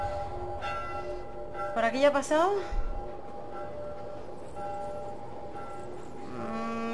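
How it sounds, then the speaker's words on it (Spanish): Church bells ringing in The Last of Us, a brief resonant peal with sustained tones that swells midway and fades, heard under game ambience while a person talks over it. "vamos a intentar ir hacia las campanadas"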